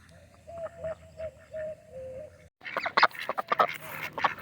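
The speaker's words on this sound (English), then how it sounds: "Wow, these are friendly ducks." Friendly ducks quack in a short run of nasal calls outdoors, then a busier, louder burst of overlapping quacks and splashy rustling follows close by.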